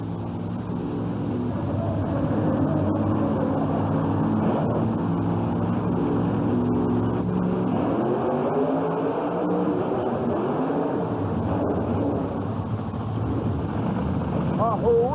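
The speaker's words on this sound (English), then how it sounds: "The rear-engine supercharged Chevy ready to lead the line." The Grave Digger monster truck's rear-engine supercharged Chevy engine roars at a 1991 USHRA racing event, a steady loud drone with shifting pitch heard under continuous announcer commentary.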